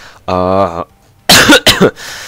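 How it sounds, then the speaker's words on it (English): A short voiced sound, then two or three harsh, loud coughs up close, separated by brief silence. "why do I have to keep coughing all the goddamn time?"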